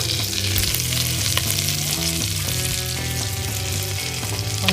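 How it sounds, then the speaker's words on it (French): Small turkey and speculoos rolls sizzle steadily in a pan of melted oil and butter, a dense, continuous frying hiss close by with occasional faint knocks from turning them. "Je fais fondre un mélange d'huile et de beurre. J'y fais revenir mes petits roulés."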